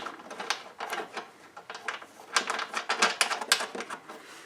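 A lock nut is threaded and tightened onto the impeller shaft of a DR leaf vacuum, giving close, rapid ratchet-like clicking in uneven bursts with short pauses in between.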